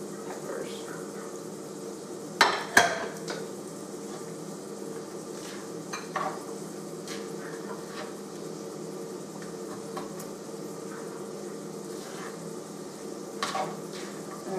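Mushrooms saute in a pan on a stovetop, giving a steady soft sizzle, with occasional clinks and scrapes of a utensil against the pan.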